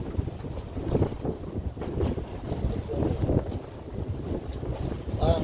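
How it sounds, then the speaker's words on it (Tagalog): Wind rushes past a boat heading to El Fraile with a low, fluttering buffet of moderate loudness, and faint voices are audible underneath. "Ang sarap ng hangin"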